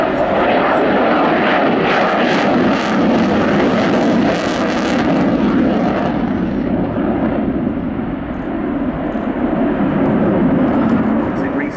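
A Sukhoi Su-27-P1M Flanker jet flies a slow pass in an air display with its large dorsal air brake extended, giving a loud, continuous roaring engine rumble that surges and holds throughout.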